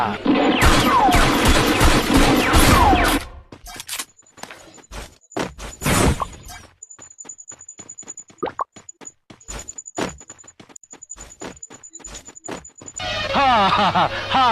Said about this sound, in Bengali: চালাও চালা গুলি